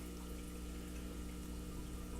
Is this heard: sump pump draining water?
yes